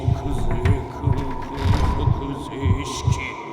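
Slow, regular heartbeat thumps pulse low and deep in the Kuon horror game, about one double-beat every half second over a steady ambient hum, with faint creaks and murmurs drifting above.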